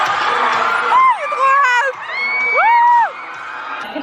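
Hysterical crowd of young fans screaming and cheering at a YouTuber meet-up, loud rising and falling shrieks and whoops filling the whole moment, with crowd noise beneath.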